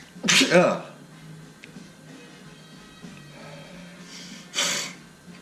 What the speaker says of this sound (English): excuse me, sneezed.